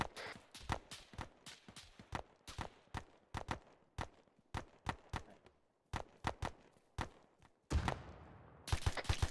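Rapid gunfire in Arma 3, many sharp close shots in quick irregular bursts, with a denser volley of fire near the end.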